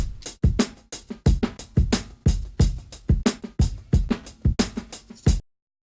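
A sampled drum break loops in Ableton Live, its kick and snare hits punching out in a steady, funky pattern, close and dry with no voices, ending abruptly after about five seconds.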